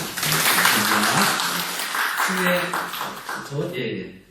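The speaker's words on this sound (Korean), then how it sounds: "우리 환영의 박수로" A church congregation at a Sunday worship service gives a brief burst of welcoming applause that fades while voices speak over and after it.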